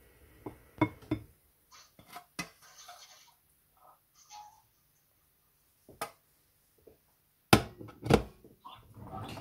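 Cooked black rice with ham and eggs being put onto a plate, with scattered sharp clinks and taps of dishes and utensils separated by near silence, close and fairly quiet.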